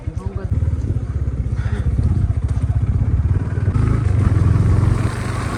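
A motorbike ridden slowly past a house, its engine chugging in a steady, close putter that swells slightly as it passes, while people talk over it.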